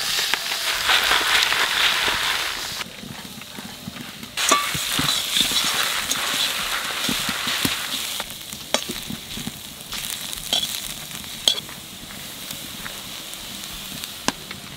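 Onions fry in a pan with a loud, crackling sizzle that settles somewhat after a few seconds, scattered with sharp pops and occasional clinks of stirring; no one speaks.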